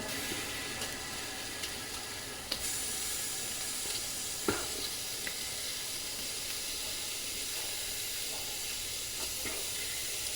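Onions frying in a pan for a turnip and fenugreek bhurji, producing a steady, dense sizzle close by with occasional small pops and clicks of stirring, without talk.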